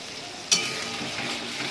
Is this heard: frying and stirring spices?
yes